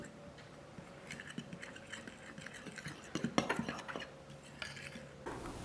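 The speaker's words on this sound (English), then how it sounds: "we are going to whisk together flour, baking powder, salt, and cinnamon until that is evenly combined" A whisk stirs flour, baking powder, salt and cinnamon in a bowl for strawberry muffins, giving faint, repeated scraping clinks against the bowl.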